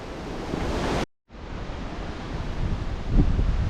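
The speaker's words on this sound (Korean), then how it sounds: "바람 엄청 분다" Strong wind blowing across a mountain ridge on Seoraksan, a loud, roaring rush buffeting the microphone, briefly cut to silence and then building again.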